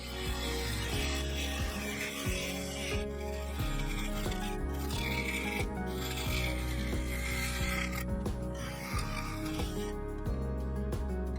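Woodturning tool cutting and shaping a sapele and epoxy resin vase on a spinning lathe, a steady close scraping rasp with repeated short catches and rhythmic strokes over the constant hum of the machine.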